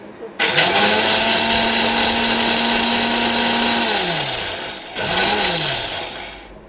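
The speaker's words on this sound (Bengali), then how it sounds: "আমি চালটা বেটে নিই" An electric mixer grinder grinds rice in bursts, its motor whining loud and steady for about three seconds, winding down, then starting again for a second short run.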